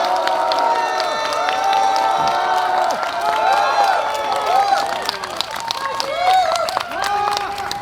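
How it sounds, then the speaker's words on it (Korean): Cheering and applause from a crowd at a press conference where a candidate for Gwanak district mayor is introduced, a dense continuous roar with whoops and clapping held at steady loudness throughout. "큰 박수 부탁드립니다."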